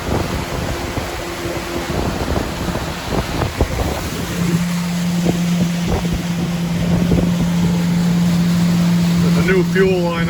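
A 70 HP outboard motor roars wide open at a steady 5,200 RPM, with wind buffeting the microphone and water rushing past the hull.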